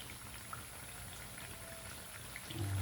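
Butchi frying in a kawali pan, giving a steady, even sizzle of hot oil that stays fairly quiet and swells slightly near the end, with no voices.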